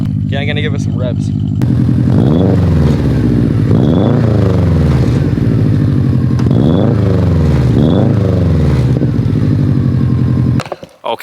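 A tuned car engine fitted with a turbo and whistle devices revs repeatedly and loudly up close, with rising and falling pitch sweeps across several throttle blips over a steady idle, ending abruptly.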